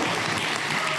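A dense, steady burst of clapping from a convention audience at Comic Con Baltics, heard as a brief uninterrupted wash of applause.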